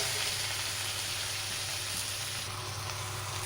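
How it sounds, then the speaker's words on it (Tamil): Tomato, green chili, coconut and onion sautéing in a pan for coriander chutney, a steady close sizzle with a constant bright hiss and no pauses. "நல்லா வதக்கணும்."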